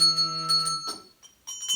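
A bell rings a sustained pitch in a preschool music class, a clear tone that fades, followed by a few quieter bell strikes.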